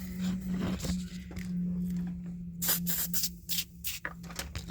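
Several short hissing bursts of battery cleaner and acid detector spray onto a car battery close to the microphone over a steady low hum, with a few brief pauses between them.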